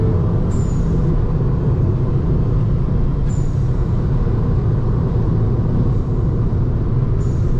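Citroen DS3 THP turbo car driving, a steady loud engine and road rumble from inside the cabin, with brief high hisses around the start, middle and end.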